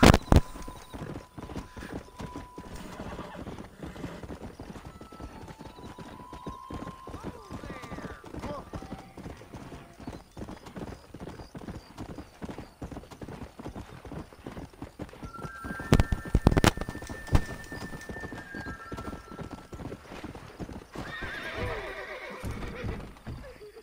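Rhythmic hoofbeats of a video game horse in Red Dead Redemption gallop steadily throughout, with the horse neighing loudly partway through; a person talks over it.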